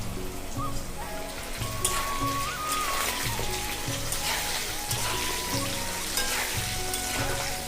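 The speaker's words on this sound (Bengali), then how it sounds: "আমি আলুটা একটু হালকা করে ভেজে নেব।" Potatoes fry lightly with turmeric in hot oil, a steady, close crackling sizzle like rain on a surface, even and continuous with faint background tones and no speech.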